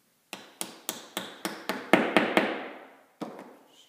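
Hoffmann W1 dovetail key, 3/8 inch, being tapped into a glued picture frame corner joint: about ten crisp, evenly spaced hammer taps close up, then a short pause and one final tap, with no talk.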